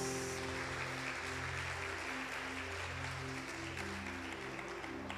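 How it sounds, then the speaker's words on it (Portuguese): Congregation at a worship service applauds, a continuous wash of clapping held fairly low beneath sustained organ or keyboard chords that ring on steadily. "Aplauda"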